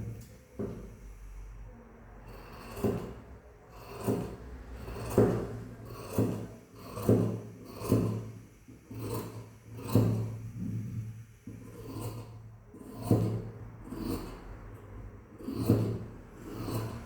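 Scissors cutting through blouse fabric, a soft rhythmic crunching and rasping repeated roughly every second, quiet and close with no talking.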